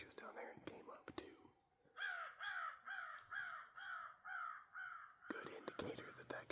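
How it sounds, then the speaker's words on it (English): A crow caws again and again in a field during a turkey hunt, about eight evenly spaced harsh calls at moderate distance, with quiet whispered talk before and after. "there's a crow behind me just hammering at it"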